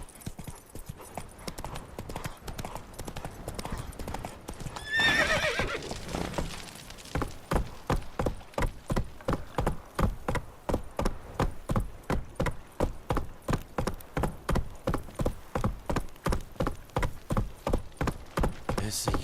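The horse Roach galloping in The Witcher 3, a fast, steady run of loud hoof clip-clops that builds after a brief burst of other game noise, with a short spoken line at the start.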